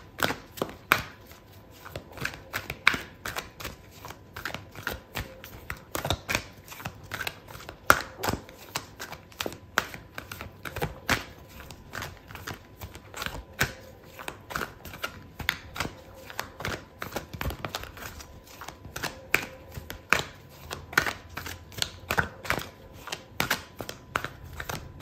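Tarot cards being shuffled before a card is pulled: a quiet, continuous run of rapid papery clicks and riffles with no talking.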